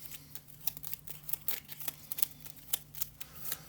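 Two decks of cards for a board game being shuffled by hand, a run of quick riffling snaps and soft flutters in irregular bursts, close and fairly quiet.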